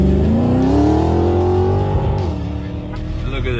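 Nissan Patrol 4x4s rev hard while drag racing each other on Kalahari sand dunes, a loud, sustained engine roar rising in pitch as they accelerate, with voices talking over it.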